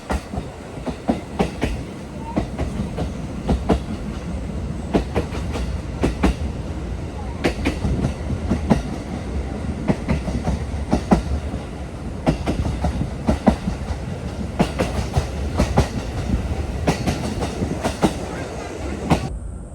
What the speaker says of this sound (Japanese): レールの継ぎ目の音や踏切の音、風の音がとてもよく聞こえて